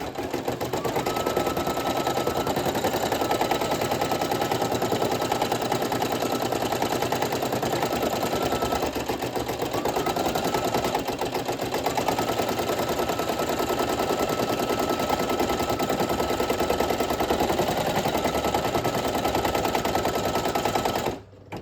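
An embroidery machine stitches lettering onto a felt patch, a loud, continuous rapid needle hammering with a steady motor hum that runs unbroken for about twenty seconds before stopping abruptly.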